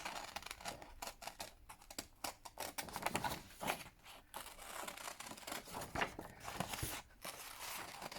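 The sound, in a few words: scissors roughly fussy cutting paper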